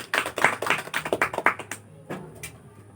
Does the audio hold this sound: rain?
no